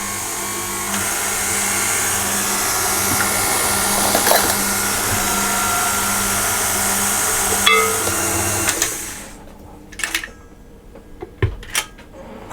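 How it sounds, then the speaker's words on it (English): Electric stand mixer with a paddle beating muffin batter on slow speed, a steady motor hum for several seconds that stops, followed by a few clanks and knocks; no talk. "I'm going to put this in a bit at a time, and I'm going to mix it on slow"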